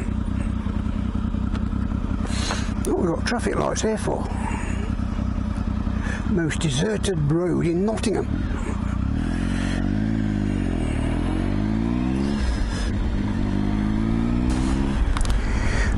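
An old Triumph Tiger 955i motorcycle rides a quiet road in Nottingham, its engine humming steadily and rising and falling as the rider accelerates. Someone talks over it for much of the ride.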